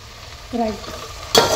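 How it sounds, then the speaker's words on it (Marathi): Goat brain fries in hot oil with onion and turmeric: a brief scrape of stirring, then a sudden bright sizzle as the pan flares up loudly near the end. "तर मी तेल टाकलेलं आहे, कांदा टाकलेला आहे, हळद टाकलेली आहे आणि जो मेंदू असतो तो आपण तेलातच फ्राय करायचा आहे."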